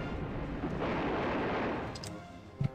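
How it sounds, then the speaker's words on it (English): Artillery fire in the wargame Panzer General II, a booming shot swelling into a broad rumbling roar that fades away, followed by a couple of short sharp clicks near the end. "Artillery."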